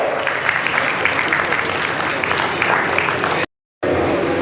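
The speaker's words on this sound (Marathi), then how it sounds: "सर्वांनी त्या ठिकाणी टाळ्या वाजवून त्यांच्या या सत्काराला प्रोत्साहन द्यावं" Sustained applause from a crowd fills the whole stretch, dense and even, before cutting off abruptly near the end.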